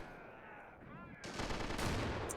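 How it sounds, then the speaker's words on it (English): Artillery guns firing in the game Army Men: Plastic Wars, a rough burst of gunfire that swells suddenly partway through and keeps rumbling loudly to the end, with no talk over it. "these artillery guns just taking pop shots up at here"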